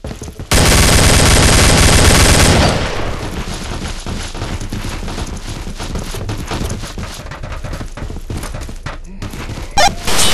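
Volley of commando gunfire in a video game: a dense, loud burst of rapid overlapping shots for about two seconds, then continued scattered firing and game noise at lower level.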